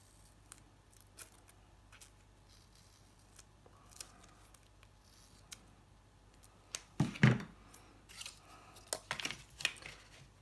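Scissors cutting thick craft tape up the middle for a paper album, quiet snips and rustles at first, then a cluster of louder crisp cuts near the end, close and alone.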